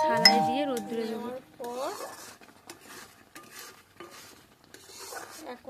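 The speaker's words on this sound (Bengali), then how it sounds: "তো এইভাবে আমি অনেকক্ষণ থেকে নেড়ে নিলাম।" Boiled raw mango pulp stirred in a pan at home, with soft, repeated scraping and shuffling strokes running through the clip, plus brief tonal sounds near the start.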